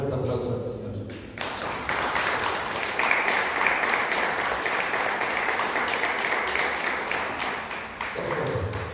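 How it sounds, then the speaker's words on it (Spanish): A church congregation claps together in sustained, dense applause after a call to praise the Lord, steady and loud for several seconds before tapering at the end. "Dale un fuerte aplauso al Señor"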